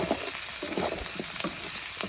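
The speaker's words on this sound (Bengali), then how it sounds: "আমি আগে পেঁয়াজগুলো ভাজা ভাজা করে নিলাম" A steady, loud sizzle of onions frying in hot oil in a pan, with faint scraping stirs now and then.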